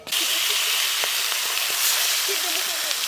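Aair fish sizzle in oil with a bright, steady hiss and scattered crackles, heard up close and without talk.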